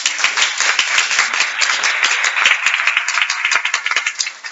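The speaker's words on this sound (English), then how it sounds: "We need a round of applause now, I think." Applause from an audience at a law and technology symposium, brisk, dense clapping from a room full of people, close and steady throughout with no talking.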